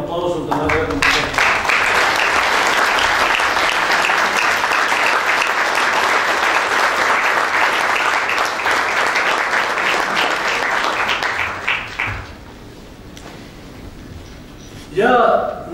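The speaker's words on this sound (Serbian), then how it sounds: "jednim aplauzom da nagradimo" Sustained audience applause at an international tourism fair fills the hall loudly for about twelve seconds, then fades out, followed by a brief voice.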